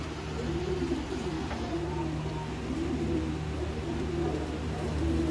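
Indian pigeons, sold as surkhay kabootar, coo softly and steadily in a low murmur, fairly faint and continuous against a quiet background hum, with no one speaking.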